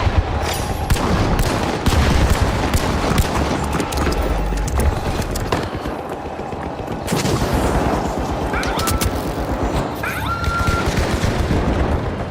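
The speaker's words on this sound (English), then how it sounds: "Frag grenade set! Throwing a frag!" A frag grenade is thrown and bursts during a sustained gunfight in the arena shooter The Finals, with loud continuous gunfire and booming impacts filling the scene from start to finish, dense and close.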